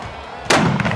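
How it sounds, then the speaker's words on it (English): A cannon fires at Maverik Stadium with a single sharp, booming blast out of a steady background hum, followed by a brief rumbling tail and a faint secondary crackle. "I got to fire the cannon."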